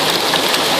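Steady heavy rain pouring down, a dense loud hiss of drops on surfaces, continuous and close, with no voices.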